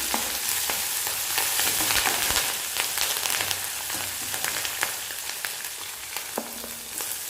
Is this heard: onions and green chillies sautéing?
yes